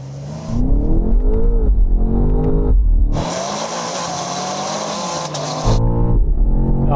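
BMW M cars including an XM Red Label launching in a drag race, with a loud, close engine roar climbing through revs, a break at a gear change, then hard acceleration resuming.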